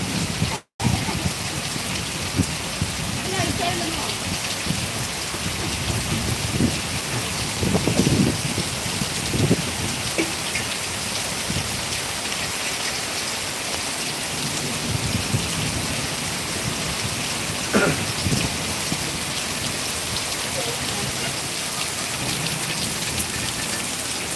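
Heavy rain pours steadily in Vallioor, a dense, continuous wash of falling water and drops hitting surfaces that stays loud and close throughout, with no voices.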